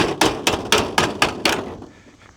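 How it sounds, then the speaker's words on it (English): Metal straps on a barn's sill plates are hammered flat with six sharp, evenly spaced blows, close and loud, each ringing briefly, then quiet. "I've also got to hammer those down flat."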